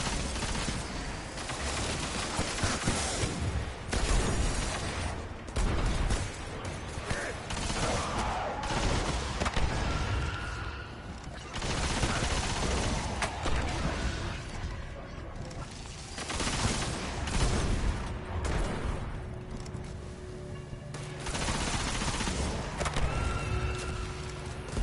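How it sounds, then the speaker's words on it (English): Scorch cannon fire in the video game Destiny, sounding as repeated heavy blasts and explosive bursts in waves across a busy battle mix. "Who's using a scorch cannon?"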